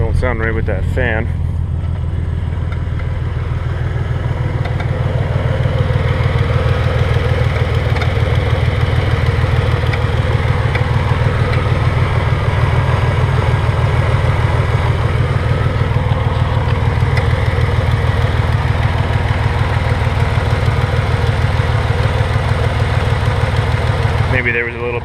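A Chevrolet S10 Blazer engine idles steadily after a radiator replacement, its cooling fan running with an uneven, off-sounding whir over a constant low drone that stays loud and close throughout.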